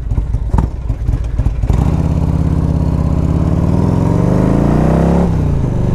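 A 1991 Harley-Davidson FLHTP engine idles loud and close with a steady, lumpy V-twin throb, picking up after a brief rough start and holding a strong rumble throughout.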